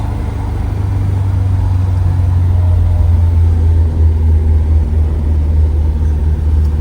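A 1972 Volvo P1800E with a four-cylinder engine and four-speed gearbox holds a deep, continuous rumble that swells only slightly. The engine is loud and near, with no speech over it.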